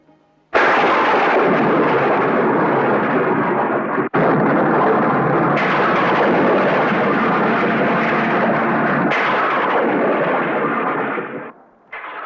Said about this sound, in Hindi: कितनी जोर का तूफान है